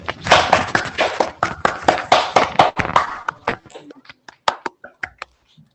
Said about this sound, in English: Let's give these coders a big round of applause.